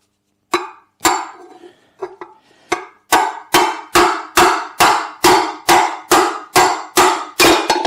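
Heavy hammer blows strike a Lambretta TV175 scooter part held against the body, a few irregular hits at first and then a fast steady run of loud, close, ringing whacks with no talk.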